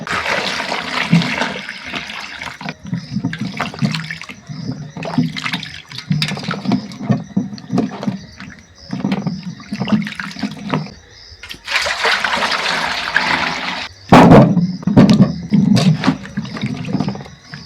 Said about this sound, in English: I'm going to go ahead and wash my potatoes